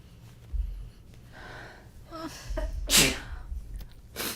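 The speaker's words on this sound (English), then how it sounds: "I'm going to sneeze." A single sneeze preceded by sharp gasping intakes of breath, the burst loud and close, followed by a short sniffing exhale.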